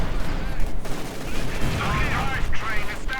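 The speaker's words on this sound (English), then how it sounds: "the Stug blasts away at the shock troopers" Gunfire and exploding high-explosive shells from a StuG assault gun in the WWII strategy game Company of Heroes 2, a dense, continuous battle din of shots and blasts with a voice talking over it.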